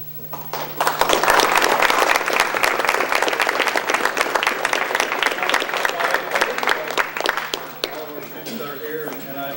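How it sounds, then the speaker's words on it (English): An audience at a Rotary Club citizen-of-the-month award ceremony claps in thanks, steady crowd applause that builds quickly and then thins toward the end, with some voices mixed in. "I want you to give them some applause to say thank you for all they're doing"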